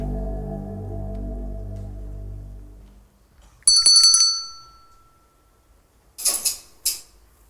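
A low sustained hum fades out, then a bright metallic bell rings once, followed after a pause by brief whirring, scraping bursts of a small clockwork mechanism responding to the bell.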